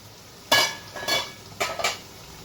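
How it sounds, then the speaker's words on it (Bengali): A metal lid comes off a cooking pot of chicken makhmali with a few sharp clanks and clatters in quick succession, close by against a quiet background. "তাহলে ঢাকনাটা উঠিয়ে দিই।"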